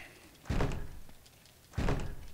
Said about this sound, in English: Give me some help with this door.